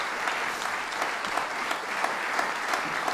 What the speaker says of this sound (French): d'applaudissements pour nos artistes.